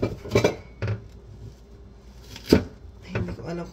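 Onion being chopped with a dull kitchen knife on a board, giving a few loud, irregular knocks and thuds separated by short pauses, close to the microphone.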